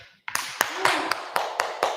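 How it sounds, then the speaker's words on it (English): Small-group applause for Stephen: a handful of sharp, close claps at a loose, steady pace after a brief quiet start, with a voice faintly mixed underneath. "How about a round of applause for Stephen?"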